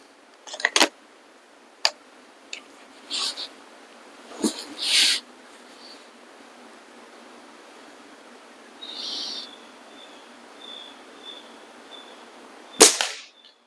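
An Air Venturi Omnistorm air rifle, heard as a few sharp, isolated clicks spread across a quiet stretch, ending in one louder, crisp crack near the end.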